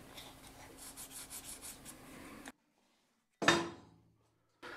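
A piece is cut from a scrapyard steel bar with steady, rhythmic rasping strokes for a couple of seconds, then a pause and a single sharp, loud metallic burst that rings briefly.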